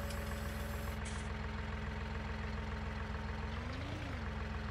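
A tractor engine idles in Farming Simulator 19, a steady, loud low rumble that holds evenly throughout with no talk over it.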